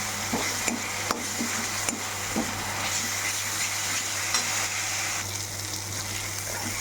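Tomato being stirred into masala as it fries in a pan, a continuous sizzle with a low steady hum beneath and a few sharp scraping taps of the spoon, close and without talk.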